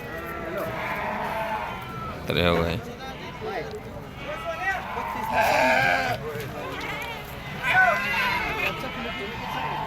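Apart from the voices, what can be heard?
sheep bleating at livestock market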